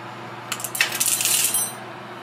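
Dry ice pellets scooped through a funnel into a SodaStream bottle, a burst of bright rattling and clinking as the small hard pellets pour and tumble for about a second, fairly loud and close, without speech.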